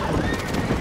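Horse hooves clip-clopping with a whinny in the Red Dead Redemption video game, a short loud burst of galloping and neighing mixed with game sounds and faint voices.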